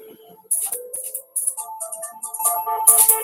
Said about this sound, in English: of course, now my phone rings.